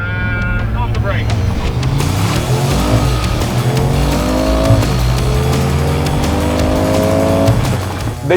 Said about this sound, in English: Okay, launch control run. Kick down and off the brake.